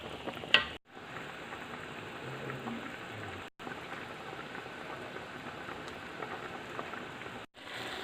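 Carrots for gajar ka murabba simmering in thickening sugar syrup, giving a steady, quiet bubbling hiss with soft popping, continuous and close, broken by two short gaps, with no voices.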